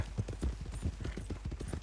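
Horse hooves clip-clop steadily at a walking pace in a video game, a close, regular rhythm of thudding beats over a continuous background hum.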